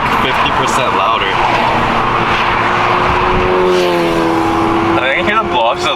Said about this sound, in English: I can hear the blow-off just a little bit more.